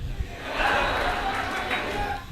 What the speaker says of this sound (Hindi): जोरदार तालियों से आवाज दें हीरामणि